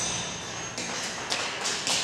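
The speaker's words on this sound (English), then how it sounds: "So if I press the spacebar." A keyboard spacebar pressed during video editing, giving a few soft, quick taps over a steady hiss.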